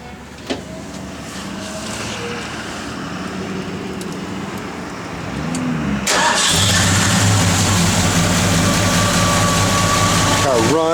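A 1972 Ford Gran Torino Sport cranks over and catches about halfway through, settling into a loud, steady idle close by, with quiet talk and faint rustling before it fires.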